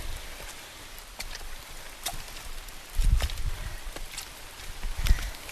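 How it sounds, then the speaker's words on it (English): Light rain sprinkles in a lush wooded area of moss-covered boulders and ferns, a soft steady patter with faint drips, while occasional low thuds of a hiker's footsteps come through close by. "the rain has sort of been like steadily letting up, and it's just a little sprinkle now"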